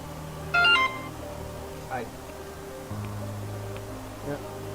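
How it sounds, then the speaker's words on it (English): Short electronic phone notification chime, a bright tonal blip near the start followed by softer tonal sounds, heard close over faint room noise. "my notification stole a CF2 item notification sound"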